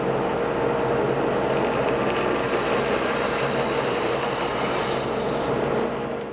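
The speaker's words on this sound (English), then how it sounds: "Using my paddle, I will then direct that piece through the bandsaw blade." A bandsaw blade cuts steadily through a hard maple workpiece pushed along with a paddle, a continuous broadband whir and rasp holding at constant loudness throughout, close up with no talking.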